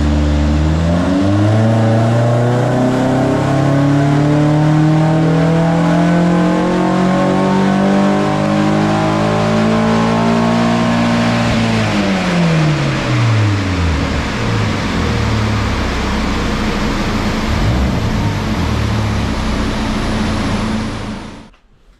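BMW 116 race car engine revving hard on a rolling road, pitch climbing steadily, then dropping and winding down before cutting off, loud and continuous.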